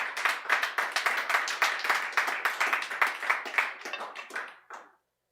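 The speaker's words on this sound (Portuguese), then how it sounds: "Dá uma salva de palmas para Jesus" Church congregation claps in a quick, rhythmic burst of applause, individual hand claps distinct and close, fading out and stopping abruptly near the end.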